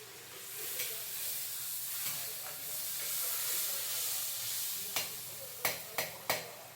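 Tomatoes fry for Maggi with a soft steady sizzle in a pan, followed near the end by several sharp utensil clinks and scrapes.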